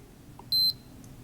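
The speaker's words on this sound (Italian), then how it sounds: "quando il tempo impostato di superficie sarà raggiunto l'orologio mi metterà degli allarmi acustici e visivi" A Cressi Nepto dive watch gives a short, loud electronic alarm beep, one clear piercing tone lasting about a fifth of a second, close and alone against a quiet background.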